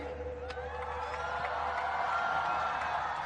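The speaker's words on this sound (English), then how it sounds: "a huge cheer goes up for the Pakistan star" Cheering from a packed cricket stadium crowd at a Pakistan versus England match, as the Pakistan captain is greeted. The roar is loud, dense and sustained, with scattered whoops and claps and no pause.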